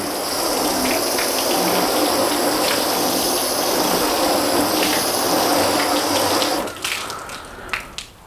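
Hose water rinsing and sheeting off car paint coated with spray sealant, a loud, steady close gush for about seven seconds that cuts off abruptly, leaving faint drips and splashes.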